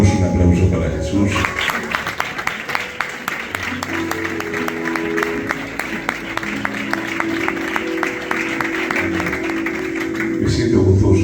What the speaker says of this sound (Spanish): Damos un aplauso para Jesús